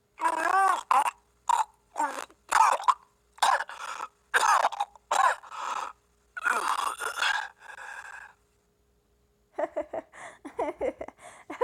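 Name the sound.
character coughing, from a video game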